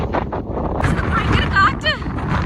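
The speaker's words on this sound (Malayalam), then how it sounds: "ഭയങ്കര കാറ്റ്." Strong gusting wind buffets the microphone at Volchiy waterfall near Aktobe, a loud low rumble that rises and falls, with a person talking over it.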